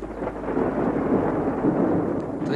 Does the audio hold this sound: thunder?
yes